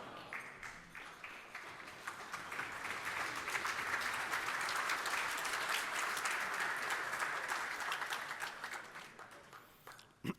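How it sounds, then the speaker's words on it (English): A crowd at a whisky tasting masterclass during a distillery feast day claps in a sustained round of applause, swelling from scattered claps to a dense, even roar before fading, heard from a distance. "Thank you very much for the round of applause."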